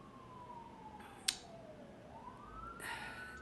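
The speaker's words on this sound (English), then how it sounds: "as soon as I hear sirens, I get distracted" A siren wails faintly in the distance, a thin sweeping tone that glides slowly down and then climbs again, with a brief sharp click partway through over quiet background noise.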